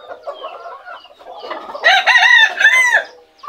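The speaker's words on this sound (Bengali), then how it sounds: "এই তো আমার সকল সিলভার এবং কোচিন মোরগ মুরগিগুলা" Silver and Cochin roosters and hens, mottled Cochin and frizzle bantams among them, cluck softly, then a rooster gives a loud, close crow and the flock keeps clucking.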